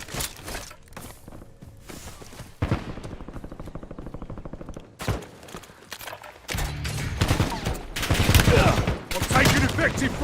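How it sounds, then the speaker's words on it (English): Bursts of automatic gunfire in the Warzone video game, loud and close, with rapid rattling volleys from about halfway on and denser firing near the end, alongside faint movement noises. "I'm taking effective fire"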